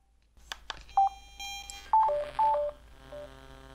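A Sena Bluetooth motorcycle helmet intercom plays its pairing sequence: a few soft clicks, then a series of clear electronic beeps and short tone chirps in an uneven rhythm, close and alone.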